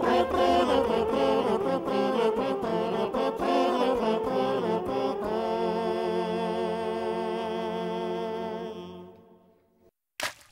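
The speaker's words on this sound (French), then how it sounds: "Les aboiements des chiens et le son du cor pendant le festival de trompes de chasse sur l'hippodrome." Hunting horns sound together at a festival on a racecourse, a loud sustained brassy chord with rippling notes that holds, then fades out before a short sharp knock at the end.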